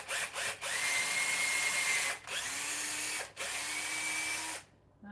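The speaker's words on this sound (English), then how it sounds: "So we angle the drill on the toe holes and it's straight down." A power drill fitted with a 4.5mm bit bores toe holes in a roller skate boot, whining steadily in three sustained runs separated by brief stops, close and fairly loud with no talking.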